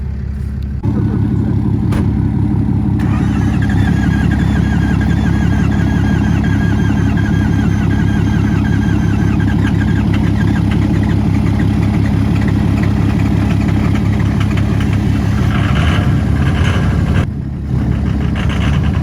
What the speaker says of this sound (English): I guarantee you, this next time it's gonna crank right up.